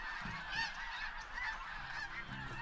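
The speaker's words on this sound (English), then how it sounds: "a couple hundred mingling voices of waterfowl" Dense chorus of migrating waterfowl, many geese honking and calling over one another at moderate distance, a continuous overlapping clamor with no speech.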